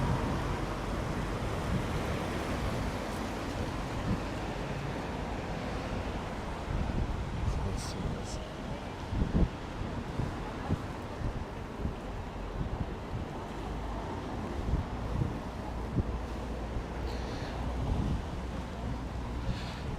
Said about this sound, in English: So this is the River Corrib.